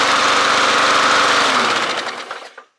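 A Toro or Poulan lawn mower engine, just fitted with a swapped carburetor, runs loud and steady close by, then sputters and dies away over the last half second.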